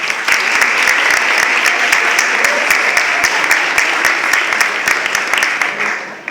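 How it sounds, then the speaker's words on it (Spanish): Sustained applause from a university audience at a student panel in Tuxpan, dense steady clapping filling the room for about six seconds before tapering off at the end. "para quien les pido un caluroso aplauso"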